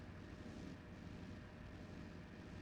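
A vehicle engine in the tank-design game Sprocket drones steadily and loudly for the whole stretch, a constant low rumbling hum that sounds almost like a propeller aircraft, with no talking over it.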